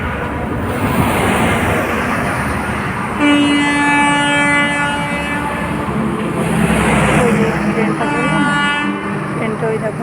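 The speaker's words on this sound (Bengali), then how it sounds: "ট্রেনটা ওই দেখো বাইরে দাঁড়িয়ে আছে, কয়লা বোঝায়, পুরো কয়লা বোঝায় ট্রেন।" A coal-loaded freight train stands outside a complex gate, sounding two long, loud horn blasts over a constant heavy rumble, heard up close.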